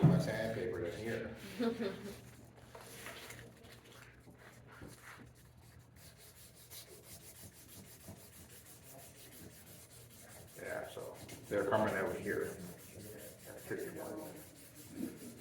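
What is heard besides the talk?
sanding wooden potato masher with sandpaper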